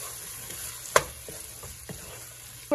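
Chopped tomatoes are stirred into frying masala for prawn biryani, a soft steady sizzle under a few sharp clacks of the spoon against the pan.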